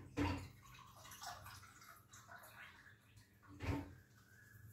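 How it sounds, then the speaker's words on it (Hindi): Water from a glass pours into flour in a bowl while dough for roti is being made at home. It makes a faint trickle and splash with two brief louder gushes, near the mic. "और 1 गिलास पानी दूंगी।"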